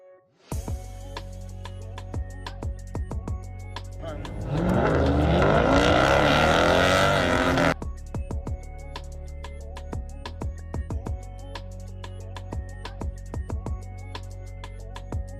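An Infiniti Q60 drag races a Mopar 392 Scat Pack at an airstrip, a loud engine roar surging for a few seconds mid-run amid steady clicking and ticking from nearby equipment, with no talk.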